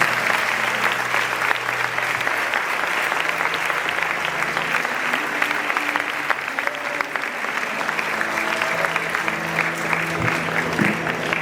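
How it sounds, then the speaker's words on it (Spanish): Sustained audience applause at a graduation ceremony, dense clapping from a large crowd that holds steady and loud throughout, with no pause. "les damos un aplauso igualmente"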